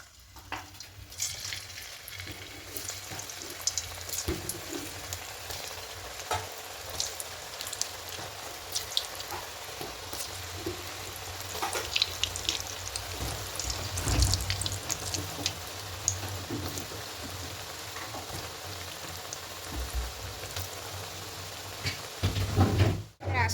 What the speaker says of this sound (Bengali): এদিকে আগে থেকে কড়াইয়ে সাদা তেল দিয়েছি তেলটা হালকা গরম হয়ে গেছে এবার একে একে দিয়ে দেবো